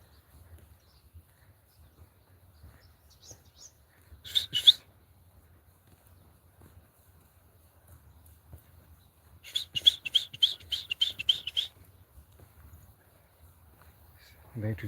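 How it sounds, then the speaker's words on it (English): Two bursts of high, rapid bird chirping ring out, a short one early and a longer trilling run later, faint over a quiet outdoor background. "So guys, look, you can hear the birds here."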